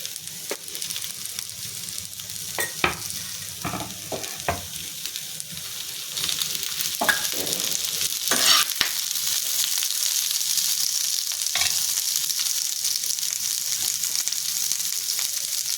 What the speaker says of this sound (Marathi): कांदा मी भाजून घेते